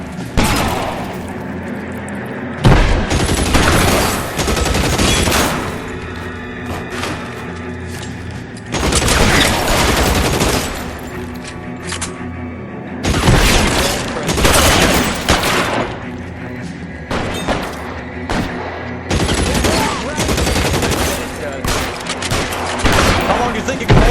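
Heavy gunfire in the video game L.A. Noire, covering fire delivered in several loud, close bursts of rattling shots and booms separated by brief lulls, the barrages recurring over a long stretch.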